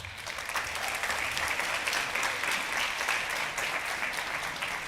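A school concert audience claps steadily for all-state band students at a spring band concert, a dense, even wash of applause from a full room that holds at a constant level throughout.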